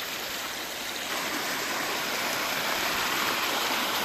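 Stream water rushing through the Harmanické žľaby karst gorge near Banská Bystrica in the Veľká Fatra, a steady, close, broadband flow that swells slightly louder partway through, with no voices.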